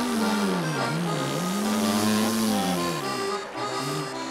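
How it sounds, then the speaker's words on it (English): An old car, a Parisian taxi, cranking and revving as a man tries to start it, a wavering engine whine rising and falling steadily throughout at moderate loudness with no talk. "Here's a man trying to start a car down here. It's an old car."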